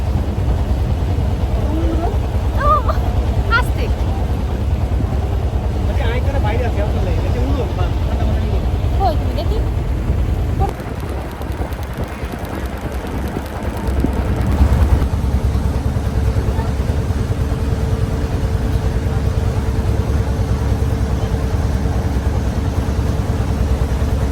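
A motorboat engine drones steadily through a boat journey, a constant low rumble that fills the whole stretch, with people talking over it.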